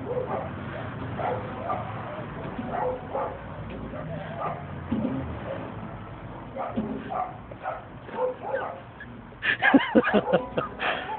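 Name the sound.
terrier dog barking and whimpering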